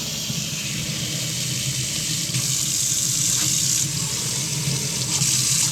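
A tap runs steadily into a basin in a campsite shelter room where only cold water is available, a constant close hiss and splash for several seconds, with no one talking.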